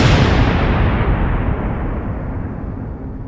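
A loud, broad rumble of thunder that starts full and slowly dulls as it rolls away, with no voices.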